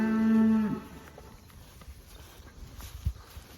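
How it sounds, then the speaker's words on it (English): A single loud, sustained moo from a well-fed cow in a herd of young heifers opens the moment, then fades into soft hoof shuffles and low background noise. "Like shiny, fat cattle."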